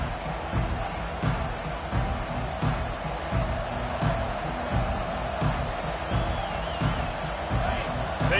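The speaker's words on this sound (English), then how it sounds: "They challenge this crowd to bring the energy, and I'd say they're doing that." A stadium crowd at a college football game between Oklahoma State and Colorado roars at a steady level, with rhythmic surges and claps that recur about every second, under a broadcast commentator's voice.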